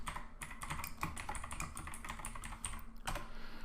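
Rapid, close clicking of keys on a computer keyboard as code is typed for a REST Assured API test, an irregular patter of keystrokes with brief pauses and no voice.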